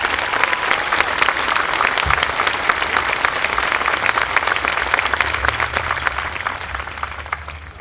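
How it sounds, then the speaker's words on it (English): A large graduation audience at a community college ceremony applauds the faculty in dense, sustained clapping that stays loud and even throughout, a faint low murmur underneath. "I think they deserve a little round of applause"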